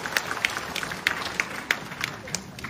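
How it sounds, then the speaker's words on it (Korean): An audience at a redevelopment briefing for an apartment complex claps, a steady patter of many hands with sharper individual claps rising over the general din. "큰 박수 한번 주세요."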